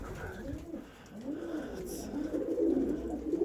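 Pigeons coo close by in a pigeon loft in soft, rolling, repeated calls that overlap and grow louder toward the end.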